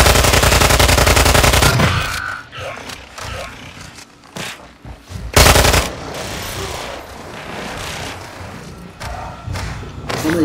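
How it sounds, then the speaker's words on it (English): Bursts of rapid gunfire in Call of Duty DMZ, then scattered single shots and heavy thuds, loud and close, with some game noise between volleys. "I'm hearing gunshots."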